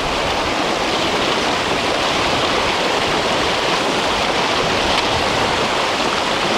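A fast-flowing glacial stream at the toe of the Saskatchewan Glacier in Banff National Park, rushing as a loud, close, constant roar of churning water with no breaks.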